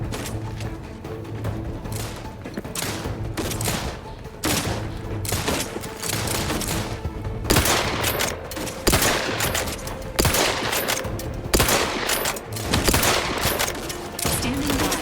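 Repeated gunfire rattles out in sharp bursts and single cracks, dense and close, with mechanical clatter between volleys and no pause for long.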